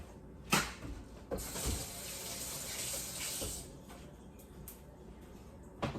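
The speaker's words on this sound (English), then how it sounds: "Have some egg residue on my hand, so I will be washing that off" Water from a tap runs for a few seconds as egg residue is rinsed off hands, with a few sharp knocks and splashes at the start and end.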